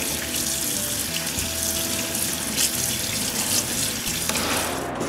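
Water runs from a tap into a sink inside a woodworking shop, a steady close splashing rush that holds at an even level throughout and briefly shifts near the end.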